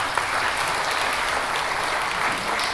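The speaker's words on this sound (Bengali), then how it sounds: "সবাই একসঙ্গে হাততালি দিয়ে তার বক্তব্যকে সমর্থন করল" A gathered crowd claps together in sustained, dense applause that stays loud and even from start to finish.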